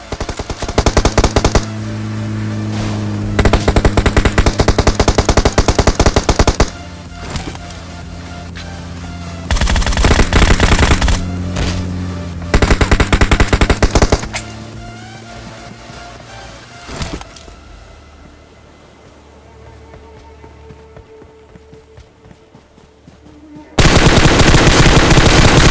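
Machine-gun fire in the BGMI battle royale game, with rapid automatic bursts loud and close in repeated stretches, separated by quieter gaps of game ambience, then a final loud burst at the end.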